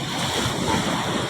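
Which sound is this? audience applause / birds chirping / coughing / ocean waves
ocean waves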